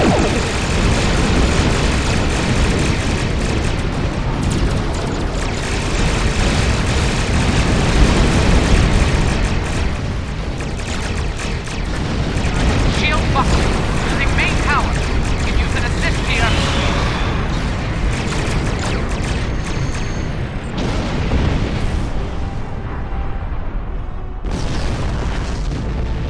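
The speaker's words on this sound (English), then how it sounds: "All ships, fire to disable!" Starship weapons fire and explosions from Star Trek Online keep up a dense, continuous roar of booms and rumbling blasts, loud throughout, with voices talking over the barrage.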